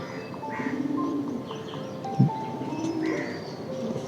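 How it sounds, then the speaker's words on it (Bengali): English Nun fancy pigeons at a pigeon farm in West Bengal, with soft low cooing rising and falling over steady background chirps and bird calls, plus one short nearby thump. "এগুলো হচ্ছে ইংলিশ নান"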